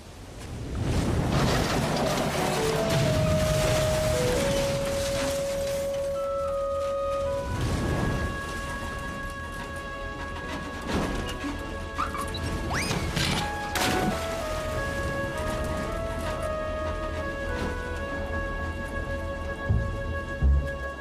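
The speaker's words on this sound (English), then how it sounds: "Let's just get out of this storm." A storm in an animated Christmas film: steady heavy rain with crashing, rumbling thunder bursts and scattered cracks, loud and continuous, with musical tones threading through it.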